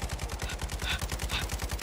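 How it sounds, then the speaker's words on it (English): Rapid automatic gunfire in the Call of Duty Warzone video game, a fast steady stream of loud close shots with no break, alone without voices. "I don't know what I'm shooting at. I'm just shooting."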